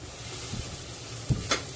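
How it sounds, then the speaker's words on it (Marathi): Spices such as red chilli powder, turmeric and asafoetida are sautéed in a little oil for a crab curry, a faint, steady sizzle with a few soft scraping stirs near the end. "मसाल्यांमधील वास निघेसपर्यंत ते परतायचे आहेत"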